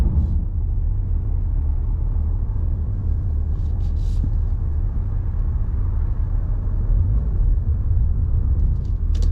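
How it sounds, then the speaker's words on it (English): A BMW G80 M3 Competition with xDrive creeps through slow winter traffic, heard as a loud, steady low engine and road rumble from inside the car, constant throughout with no talking. "We've been stuck in traffic for the last 45 minutes, but we're going."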